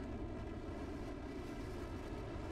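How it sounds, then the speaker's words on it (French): Steady, continuous roar of an F-14 jet engine in a flight-simulator dogfight game, a low, even rumble with no talk over it. "le bruit du moteur du F14"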